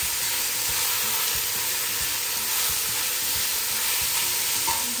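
Meat browns in a hot pan for a beef dish cooked in its own juices, with a constant loud sizzle and hiss and occasional soft scraping knocks as it is stirred.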